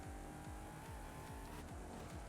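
A Koenigsegg CCGT racing in Forza Horizon 5, its engine revving in repeated rising sweeps as it shifts through gears, steady and continuous with a faint whine on top and no voices.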